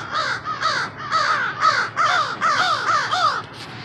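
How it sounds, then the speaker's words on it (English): A murder of crows cawing in a snowy outdoor spot, a close, steady run of about nine harsh caws in quick succession with no talking. "There's a murder of crows right here."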